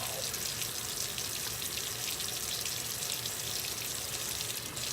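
Hot tap water runs steadily from a faucet while soapy hands are washed, a continuous close hiss with no talking over it.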